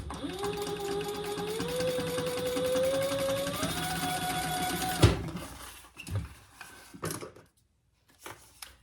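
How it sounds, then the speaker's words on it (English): Sewing machine basting a zipper case panel, a loud continuous whir that rises slightly in speed for about five seconds, then stops abruptly, followed by a few soft handling knocks. "So let me just baste that in place."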